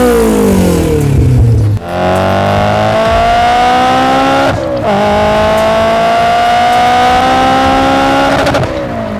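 A cammed 280 bhp Honda S2000 with a K24/K20 engine and individual throttle bodies driving hard, loud close engine revving through rising pitch sweeps with brief dips at gear changes.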